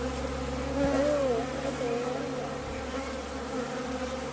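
Bees swarm around an open hive outdoors, a steady loud buzzing drone close by with individual insects whining past near the listener.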